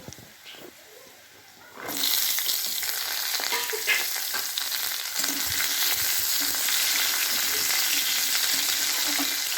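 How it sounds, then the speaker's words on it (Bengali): After a quiet start, cut potatoes hit the pan and a loud sizzle erupts, continuing as a steady close hiss with stirring scrapes and knocks. "আলুগুলো একটু এইভাবে নেড়ে আলুগুলো কষে নেব।"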